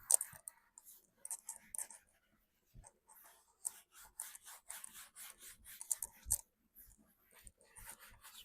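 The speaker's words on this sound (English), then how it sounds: "Let's give it a little more wipe." A smoking seasoning coat is wiped across a Blackstone griddle's hot steel top, making quiet, intermittent rubbing and scuffing strokes in short bursts with brief pauses between them.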